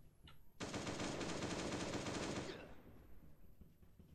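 Rapid automatic gunfire in Last Day On Earth: Survival bursts loudly for about two seconds in a continuous rattling stream, then cuts off, leaving quieter background noise.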